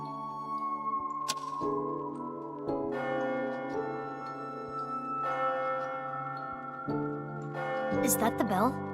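A clock bell strikes midnight in the video game AI: The Somnium Files, a run of resonant ringing tones that sustain and overlap, with a few sharp clicks and a rising electronic flourish at the end.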